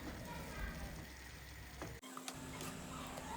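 A spoon stirs a salted, seasoned meat pie filling in a pan, giving a steady scraping and sizzling texture that runs continuously, with a brief dip partway through.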